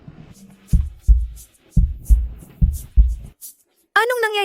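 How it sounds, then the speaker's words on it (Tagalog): Heavy, booming heartbeat effect, about six rapid deep thumps in quick pairs, loud and isolated, followed by a brief swelling tonal sound at the end. "Bakit ang bilis ng tibok ng puso ko?"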